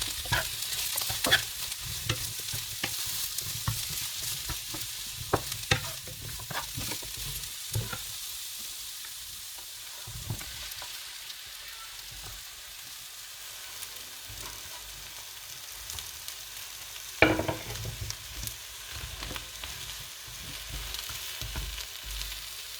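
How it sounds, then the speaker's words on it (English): Eggplant and mushrooms fry in a pan with a continuous soft sizzle while a utensil stirs and scrapes through them, close up, with one sharper knock near the end. "We'll give the eggplant a quick stir."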